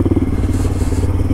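A Honda Grom motorcycle engine rumbles steadily close by in New York City, a low throaty drone with slight clattering, holding loud for the whole short moment.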